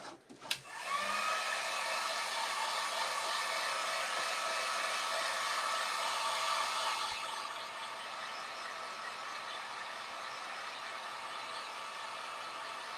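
A hair dryer blows on painted fan blade decor, switching on with a click and running as a steady close whir, then dropping to a slightly lower, quieter setting partway through and continuing.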